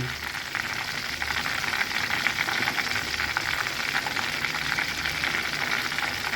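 Snakehead fish frying in hot oil in a pan, a steady, dense crackling sizzle at moderate volume, continuous throughout, with no talk over it.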